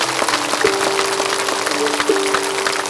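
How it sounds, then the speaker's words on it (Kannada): Loud, dense applause from a large crowd at a women's meditation gathering in Ballari after a session, sustained clapping that fills the space evenly from start to finish. "ಜೋರಾಗಿ ಚಪ್ಪಾಳೆ"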